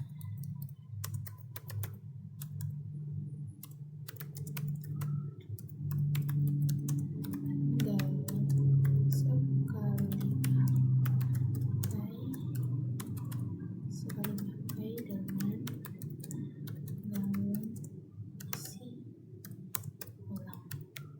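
Fingers type on a computer keyboard in quick, irregular bursts of crisp clicks that continue for a long stretch while a person talks in the background.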